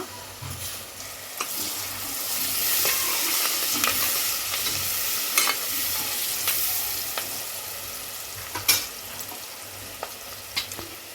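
Green chillies, curry leaves and mint frying in a pan for goat head curry: a continuous close sizzle punctuated by scattered crackles and stirring clicks.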